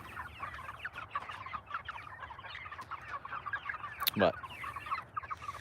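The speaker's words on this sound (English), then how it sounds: "currently I think we've got 38 or so meat birds in there" About 38 meat chickens clucking in a backyard homestead coop near bedtime, a dense, continuous chorus of murmuring clucks with one sharper squawk; a voice speaks briefly.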